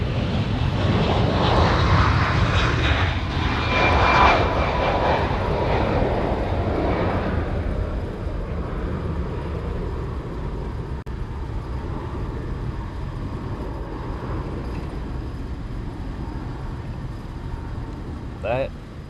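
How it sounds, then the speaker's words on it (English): A Hawaiian Airlines jet departs Honolulu airport with a loud, broad engine roar that slowly fades into the distance as the aircraft climbs away. "That was Hawaiian Flight 6 heading off to Vegas"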